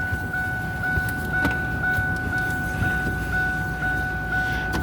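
A 1997 Ford F150 engine idling after a helicoil repair, a steady low rumble with a faint high whine and light ticking running evenly throughout, close up and alone.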